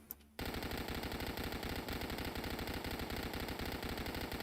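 Gut Stitcher SMG firing full auto in Dead Frontier, an unbroken rapid stream of shots starting abruptly after a brief pause and staying loud and steady throughout.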